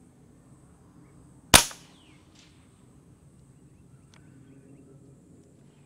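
A single sharp shot from a Hatsan AirMax .25 PCP air rifle with a sound suppression system, fired outdoors in the open, a crisp close crack that decays quickly into quiet.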